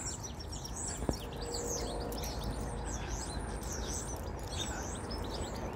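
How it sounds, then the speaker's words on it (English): Birds chirp and sing continuously in the trees, a dense chorus of tweets over steady outdoor background noise, moderately distant and unbroken throughout, with one brief sharp click near the start. "With the bird song in the trees"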